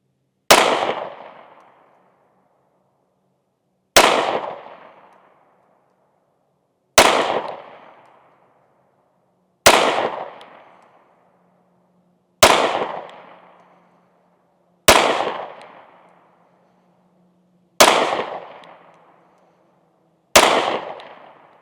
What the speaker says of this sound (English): we're shooting both guns